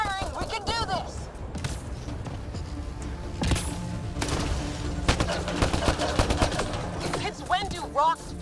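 Rapid gunfire in Mass Effect: Andromeda, a steady stream of crackling shots under shouting voices and battle noise, loud and close throughout.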